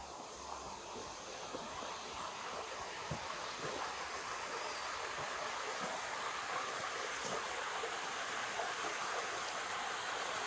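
A brook flows through a wadi among baobab and tamarind trees, a steady, soft rushing wash of water heard faintly from nearby, unchanging throughout and with no talking.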